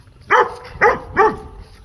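A female Rottweiler gives three deep, evenly spaced barks, close and loud, each a short punchy woof.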